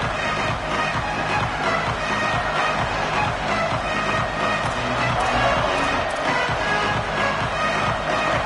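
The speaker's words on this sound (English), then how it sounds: "This crowd ready to make its presence known." A Maryland football stadium crowd roars in a dense, unbroken wall of noise, loud and sustained throughout with a slight swell partway through.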